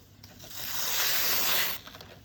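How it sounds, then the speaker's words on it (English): A single long tearing rip of newspaper, close by, swelling and fading over about two seconds with no talking. "you're going to rip your newspaper into tiny"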